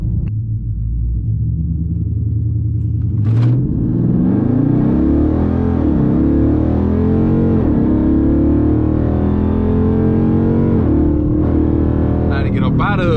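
A Dodge Charger R/T with full bolt-ons accelerates hard, its engine rumbling loud and close, rising through revs with sweeping pitch climbs and shifts over about ten seconds, with talk heard inside the car.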